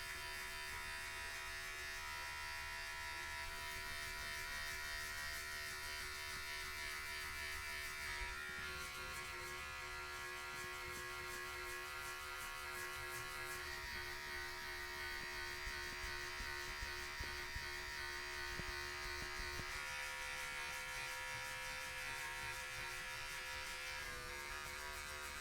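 Electric hair clippers fitted with a number 2 guard buzz steadily and close up through a self-administered buzz cut, a continuous motor drone with slight shifts in pitch as the blade passes over the hair.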